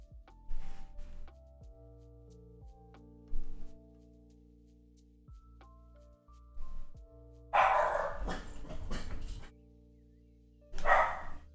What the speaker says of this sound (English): My doggies are boofing.